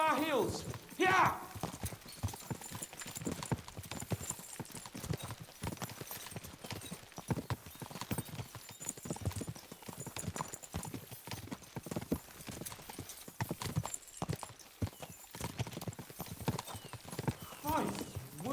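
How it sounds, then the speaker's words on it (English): Horses gallop in Kingdom Come: Deliverance II, their hoofbeats clip-clopping in a fast, continuous rhythm throughout, with a brief whinny and voices talking over the riding. "We should spur the horses on."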